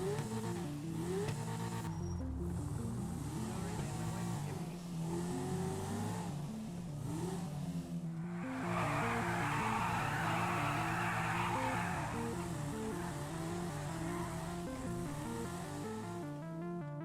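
A sports car speeds through traffic with its engine revving and rising, and tires squeal loudly for several seconds midway, the car staying close and prominent throughout.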